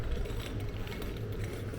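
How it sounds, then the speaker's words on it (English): A street vacuum cleaning machine works a street in Tivoli, Italy, giving off a steady, continuous mechanical whir and rattle with a low rumble throughout, fairly close and with no talk over it. "He's vacuuming the street."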